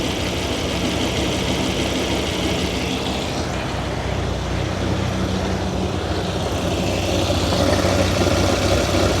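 A Dodge Viper engine idles as it warms up, making a steady, dense rumble with a faint hiss over it. It runs continuously at an even level the whole way through, with no voices.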